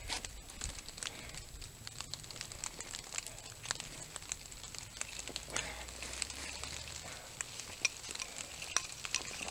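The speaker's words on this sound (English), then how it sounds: "It's mist and rain." Light rain and mist fall on a forest trail at Hobbs State Park on a cold day, giving a faint, steady soft patter with occasional sharper drips.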